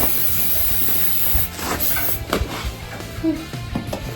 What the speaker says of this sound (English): This is just an engine degreaser that we're spraying all over to get it cleaned up.